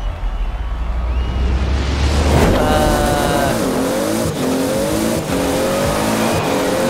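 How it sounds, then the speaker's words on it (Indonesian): A Toyota Supra racing car in the video game Forza Horizon idles low, then revs up and shifts through rising gear whines as it accelerates, loud and continuous with brief tire noise. "Ada suara-suara mobil, guys."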